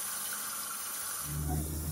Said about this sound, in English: now I'm going to put it in the sink here with some warm water and soak it for 2 hours